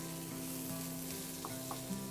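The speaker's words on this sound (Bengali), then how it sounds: "এবারে পেঁয়াজটা ভেজে নিচ্ছ।" Onions frying in a pan with a pinch of salt, a steady close sizzle with a faint hum and a couple of soft stirring clicks, no voices.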